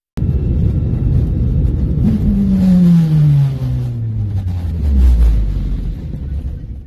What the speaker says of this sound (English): you can even hear the engine failure as it happened